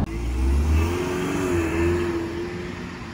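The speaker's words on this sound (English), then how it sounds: "You can hear the turbo whistle on that thing." A 2020 Ford Mustang EcoBoost Premium Convertible's turbocharged engine pulls under acceleration, a steady rising drone heard close with no talking.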